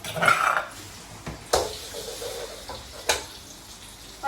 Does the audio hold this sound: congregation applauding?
no